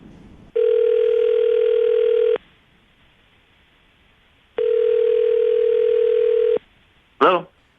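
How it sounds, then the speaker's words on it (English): Telephone ringback tone on an outgoing call, two long steady electronic rings separated by a pause, loud and close, followed by a brief burst of voice at the end. "we're going to call him right now, see if we can get him on the phone"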